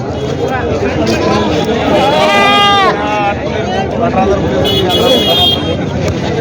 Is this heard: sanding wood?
no